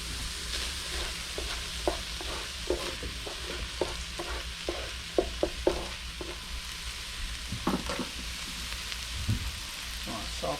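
Vegetables sautéing in a pan over medium-low heat alongside softened cabbage, a steady close sizzle broken by frequent light clicks and scrapes of stirring throughout.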